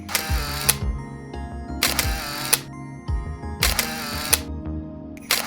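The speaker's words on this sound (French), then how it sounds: "On va essayer de les prendre en photo." A camera photographs animal footprints found near water, its shutter firing in four crisp bursts of rapid clicks separated by short pauses, close and clear with no speech.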